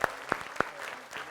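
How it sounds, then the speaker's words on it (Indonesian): Applause from an audience at a comedy stage show, heard as a handful of sharp, separate claps and a light patter over a brief moment, with no voices. "Tepuk tangan sekali lagi dong."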